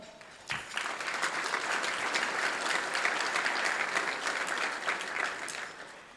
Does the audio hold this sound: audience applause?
yes